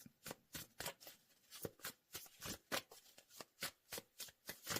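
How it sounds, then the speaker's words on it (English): A deck of tarot cards being shuffled by hand, a steady run of crisp riffling bursts about twice per second, close and fairly loud with no talk. "Want to make sure I shuffle the deck."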